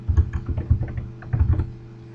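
Keys tap in quick, irregular bursts on a computer keyboard, close and fairly soft, with no talking.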